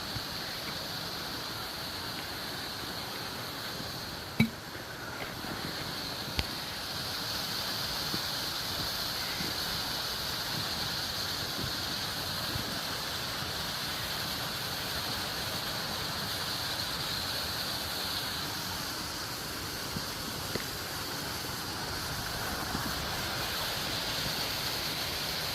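Pfeiffer Falls in Big Sur, California, pours as a steady, faint rushing hiss of falling water, constant and unbroken, with a couple of brief clicks near the start.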